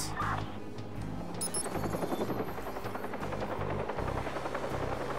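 Helicopter in the video game Watch Dogs, a loud steady rotor chop with rapid rhythmic thumping throughout, with brief sharp high tones near the start.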